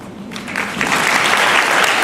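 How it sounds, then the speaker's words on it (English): A conference audience applauds a business panel after a fireside chat, broad clapping swelling up after a brief start and holding steady and loud throughout. "A big round of applause to this panel."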